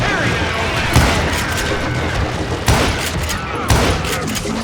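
Explosions and gunfire from a bomb blast in the western shooter game Call of Juarez: Gunslinger, three sharp loud booms landing over a dense, continuous din of combat noise.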